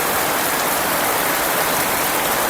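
Heavy rain pours steadily in a flood-prone village lane, a dense, unbroken hiss of water close by and loud, with no voices over it.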